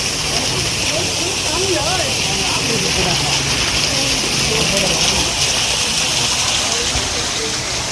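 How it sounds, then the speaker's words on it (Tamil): Light rain drizzles outdoors at a seashell and dinosaur museum in India, a steady, even hiss filling the whole stretch while voices murmur underneath. "மழை தூருது."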